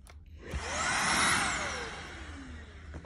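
A Greenworks stick vacuum powered by a flashlight battery whirs up into a loud high motor whine that swells and then fades as it spins down, heard close by on its own.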